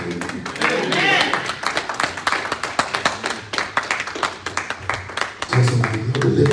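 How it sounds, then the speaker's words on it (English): A church congregation clapping in steady rhythmic beats, a dense run of hand claps with voices calling out over them. "Come on, clap your hands and shout amen"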